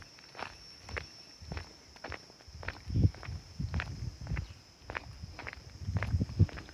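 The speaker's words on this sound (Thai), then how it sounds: "กำลังเดินลงไปนะครับในอีกมุมหนึ่ง" Footsteps walking down at Wat Phu Taphao Thong temple, a steady series of close scuffing and tapping steps on a hard surface, with faint background hum and no talking.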